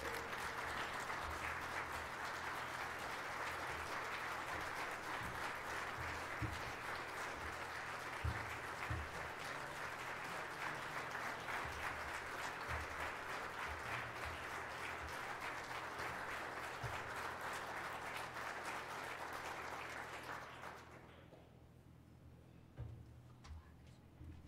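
Sustained audience applause at a Bishop Ward hall-of-fame induction ceremony, welcoming Joe Privateera to the stage; a dense, steady wash of clapping with a low hum beneath, lasting about twenty seconds before fading to near quiet.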